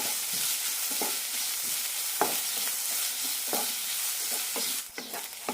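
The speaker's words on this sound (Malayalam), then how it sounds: "ഇഞ്ചിയും പച്ചമുളകും ചതച്ചിടാം പച്ചമുളകും പോകുന്നവരെ വഴറ്റാം" Crushed ginger and green chilli sautéing in a pan after onions, a continuous loud sizzle broken by regular scraping strokes of a spoon stirring the mixture.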